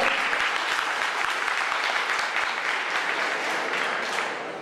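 Auditorium audience at a civic meeting in Cali breaks into steady, dense applause that holds strong for several seconds before easing slightly at the close.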